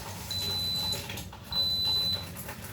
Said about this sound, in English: Yes, that is a on beeping.